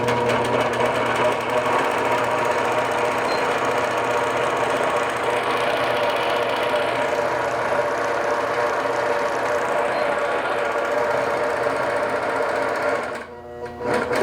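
A sewing machine stitches fabric for a tree wall hanging, a loud continuous mechanical whir with no break until it stops near the end.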